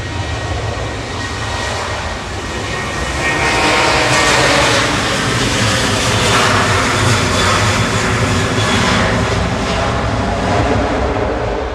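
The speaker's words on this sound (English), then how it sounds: "To me departing, 737-800, heading off to Salzburg." A Boeing 737-800 jet departs Manchester Airport for Salzburg, its engines building to a loud, sustained roar that swells midway and holds steady with no voices over it.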